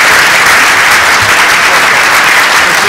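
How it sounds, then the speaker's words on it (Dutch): Warm applause for members of parliament at a Dutch debate event, a loud, dense, steady clapping from a large audience filling the whole moment. "Een warm applaus, dames en heren, voor de bereidwilligheid van de Kamerleden."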